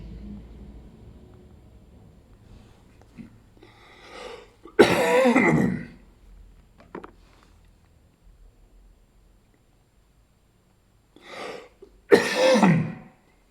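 A man coughs and clears his throat in two separate bursts, each a short rough hack followed by a louder, harsher cough, with quiet gaps of faint room noise between them.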